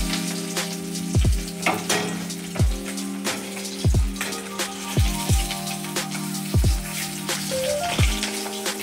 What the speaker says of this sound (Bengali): আর এই দেখো তরুলি ভাজবো